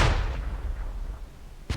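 A grenade explodes in the video game Squad with a single loud, booming blast at the start that decays over about a second, followed by a sharp crack near the end.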